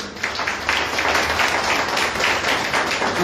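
Steady applause fills a public event held to welcome and honour a chief guest at a gathering for empowering people with disabilities, dense and continuous throughout.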